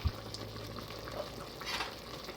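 Jamaican-style curry chicken cooking in a pot on the stove, giving a steady, soft sizzle and simmer with occasional stirring clatter and no talking.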